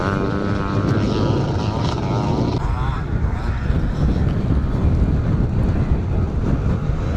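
A Yamaha YZ 490 motocross bike races toward the finish at a classic motocross meeting in Strathaven, Scotland, its engine a sustained buzzing drone with shifting pitch, fairly close and loud, heard alone without talk.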